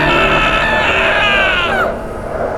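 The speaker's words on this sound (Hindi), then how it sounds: "मैडी पूरी ताकत से चिल्लाया" A man screams in fright in a horror story. A single long, loud, strained cry slides downward in pitch and then cuts off, leaving a quieter background.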